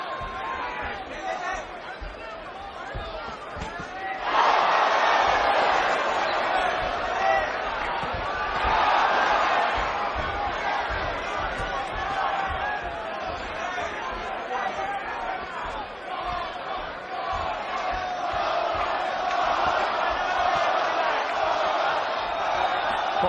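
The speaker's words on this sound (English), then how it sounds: "The cheers of the crowd go out again." A boxing crowd at the Miguel Cotto vs Yoshihiro Kamegai fight roars and cheers, surging loudly at several points and otherwise sustaining a broad wash of arena noise, with a commentator's voice running over it.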